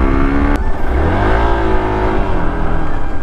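An Xpulse motorcycle engine revs and pulls hard during an off-road ride, a loud steady drone with rising and falling pitch close to the rider, and a brief sharp click near the start.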